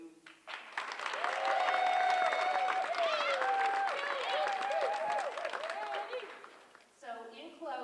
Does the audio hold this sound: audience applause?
yes